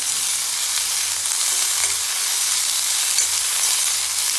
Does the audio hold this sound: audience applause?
no